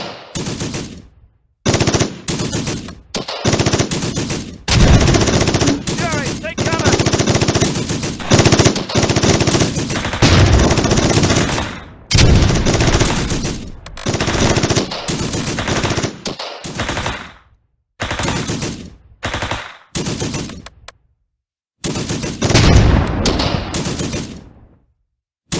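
Gunfire in the wartime strategy game Close Combat: loud, close bursts of machine-gun fire and rifle shots in rapid clusters, with brief silent gaps between volleys.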